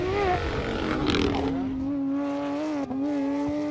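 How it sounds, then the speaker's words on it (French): A Porsche GT rally car's engine revs loud and close, its tone climbing and settling into a sustained high drone with a brief dip near the end, at the Rallye club Cœur de France 2018 event. "Le bruit de la Porsche, ouais, c'est le meilleur bruit en voiture."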